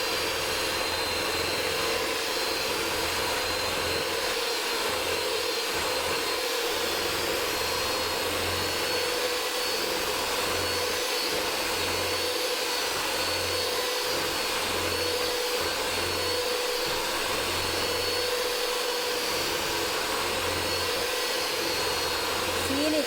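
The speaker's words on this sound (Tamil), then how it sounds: "சீனி கரையும் வரைக்கும் அடிக்கணும். இது குறைஞ்சது 10 நிமிஷம் அடிக்கணும்." Continuous whirring drone of an electric mixer beating sugar for healthy cake batter, steady and unbroken throughout.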